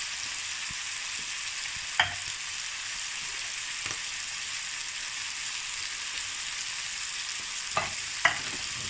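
Ground meat browns in a pot for spicy chili, a steady close sizzle and crackle with a few sharp utensil knocks against the pot, no talking.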